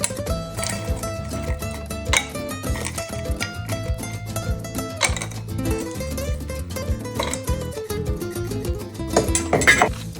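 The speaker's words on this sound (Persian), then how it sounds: "حالا نوبت به اضافه کردن یخ میرسه." Ice cubes tumble into a glass for a mojito, a long run of bright clinks and clatters with several sharper knocks as handfuls land, close and loud, no voices.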